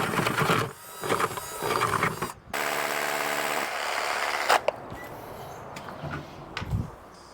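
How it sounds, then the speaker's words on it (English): A power drill bores through material with close whirring bursts, a steadier motor hum in the middle, and then knocks and handling noises as the bit finishes. "now that's all drilled through"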